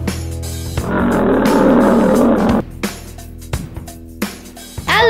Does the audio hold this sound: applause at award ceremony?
no